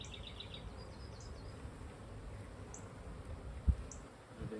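Honey bees buzz in a steady, close drone during a hive frame inspection, with a brief soft thump partway through and no talk.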